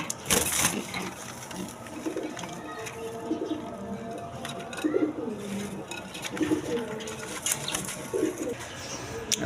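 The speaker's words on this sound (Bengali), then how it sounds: "এখানে এক পেয়ার রাসগোল্লা কবুতর আছে" A pair of Rasgolla pigeons at a farm coo in a steady series of low, soft, rolling calls, close by, with faint background clatter.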